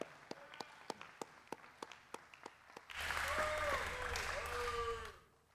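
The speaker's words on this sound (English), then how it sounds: "Can we get a round of applause for everyone who was involved in writing that?" A round of applause at a youth mock legislature session for those who wrote passed bills, starting with a few isolated claps and swelling into full sustained clapping from a room of people before fading.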